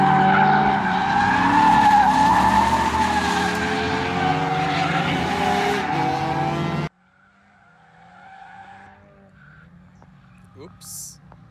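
Ford Mustang drifting on a race track, loud tire squeal and skidding over a revving engine for several seconds, then cutting off abruptly to quiet distant sounds.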